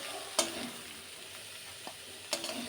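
Quiet, steady hiss of spinach frying in a pan over low-medium heat, broken by two or three brief scraping stirs of a utensil.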